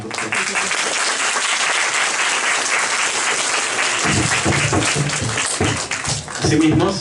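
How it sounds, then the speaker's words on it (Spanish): Applause from an audience at a university lecture ceremony, sustained clapping throughout that swells louder near the end, with some crowd noise mixed in. "Palmas, por favor."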